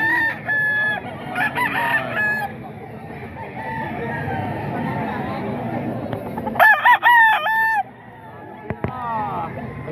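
Roosters crow repeatedly among clucking chickens at a busy fowl market, with loud overlapping calls and one sharp crow near the end, set against a murmur of background voices.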